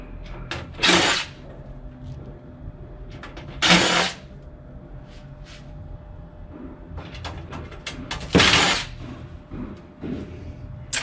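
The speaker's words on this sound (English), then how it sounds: "We're going to take out some screws on the other side while you all look at that side." An electric screwdriver whirs in short bursts while screws are backed out of an old computer tower, a few separate runs spaced seconds apart with quiet handling clicks between.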